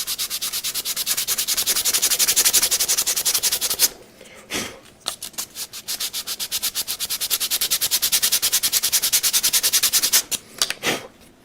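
A bevel tool is rubbed back and forth on wood in fast, rhythmic rasping strokes. Two bursts of scraping are separated by a short pause with a few knocks, close and loud.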